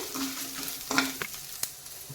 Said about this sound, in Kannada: ಹೈ ಫ್ಲೇಮ್ ಇಟ್ಕೊಂಡು ಹಾಗೆ ಒಂದು ನಾಲ್ಕರಿಂದ ಐದು ಬ್ಯಾಡಗಿ ಮೆಣಸನ್ನು ಕೂಡ ಹಾಕ್ತಾ ಇದ್ದೀನಿ ಇದು ಕೂಡ ಫ್ರೈ ಆಗಬೇಕೀಗ